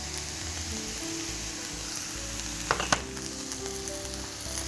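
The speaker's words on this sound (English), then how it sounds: "And these will then fry for about 5 minutes." Steady sizzling of quartered button mushrooms and chopped vegetables frying in a pan, a continuous crackly hiss with a couple of brief utensil clicks near the end.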